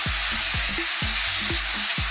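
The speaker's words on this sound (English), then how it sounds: "We're simply going to drop in all of our pork mixture," A pork mixture sizzles loudly in a very hot, lightly smoking wok over high heat, a constant crackling hiss broken by regular scraping strokes as the five-spice pork is stir-fried, with no talking.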